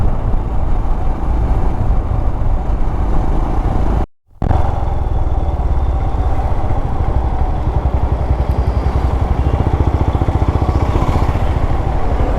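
Dense, steady engine roar of heavy road traffic with motorbikes and cars close by in Rajapalayam, India, heard from a Royal Enfield Himalayan motorcycle, briefly cutting out for a moment before resuming.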